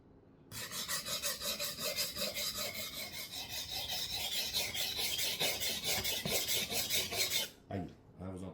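A sharpening stone rubs along the blade of a Schrade 7-inch knife in a steady, close, raspy scraping of quick repeated strokes that lasts about seven seconds before stopping.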